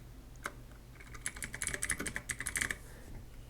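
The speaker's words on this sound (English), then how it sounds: "type Microsoft Store" Quick bursts of typing on a computer keyboard, a light clatter of key presses that speeds into a dense run of clicks, fairly quiet and close, with no voices.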